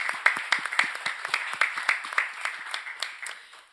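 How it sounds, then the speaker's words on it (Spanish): An audience at a public talk and conversation event claps for a speaker, a brisk run of distinct hand claps from a modest crowd that tapers off over a few seconds, fairly close and without talking over it. "Quiero que te demos un aplauso."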